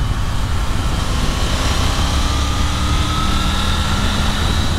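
Triumph Tiger 900 Rally Pro triple-cylinder engine pulling hard on twisty roads, a steady, loud, continuous drone with rising whine over heavy wind rush, no voices.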